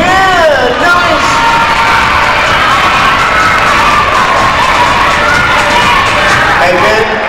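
Schoolchildren at an elementary school fitness jump rope event cheer and shout for a boy named Ben, a dense, steady wall of young voices filling the room throughout.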